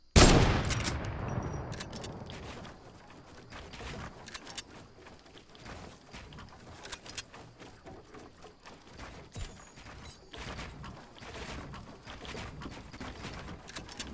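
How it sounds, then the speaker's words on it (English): Fortnite gunfire opens with a loud shot, then a busy run of rapid shots and clicking weapon mechanisms follows, near and sharp with no talking. "stop moving so I can snipe you"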